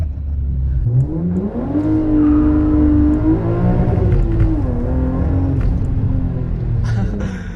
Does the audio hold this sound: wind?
no